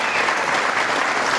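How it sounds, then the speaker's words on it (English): Loud, steady applause from an audience at a political speech before small business owners in Saint Louis, a dense clapping roar sustained throughout with no voices over it. "Give them both a big round of applause."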